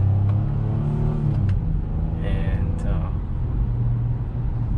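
A 2022 Honda Pilot SUV on the road gives a steady low engine and road rumble from inside the cabin, continuous and smooth beneath someone talking.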